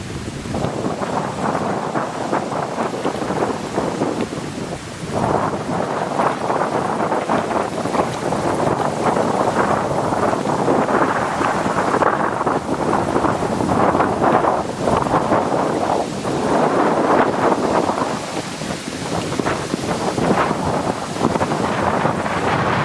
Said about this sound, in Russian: Вчера замочило, сегодня штормит.